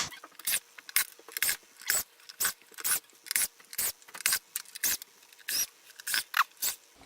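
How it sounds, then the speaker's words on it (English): Screws are backed out of a Technics turntable one after another, giving a steady run of short scraping, ratcheting bursts with brief pauses between them, close and fairly quiet. "you got to take out each one of these screws"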